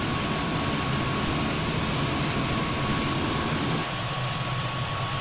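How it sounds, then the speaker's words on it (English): A Tornado GR.1 jet engine in Microsoft Flight Simulator roars as a steady broadband whine and rumble with a faint constant tone, easing slightly in the final second and a half. "The engine sounds seem to be just a little bit lacking."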